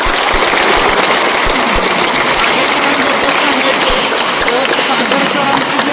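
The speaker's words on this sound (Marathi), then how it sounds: "या ठिकाणी आपण टाळ्या वाजून स्वागत करू." Sustained applause from an audience at a Yoga Day event in Satara, a thick and even patter of many hands clapping at close range, with some voices underneath.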